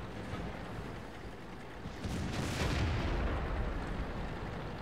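A heavy tank cannon blast in World of Tanks, one deep boom with a long rolling rumble that stays loud and fills the rest of the moment, with no voices over it.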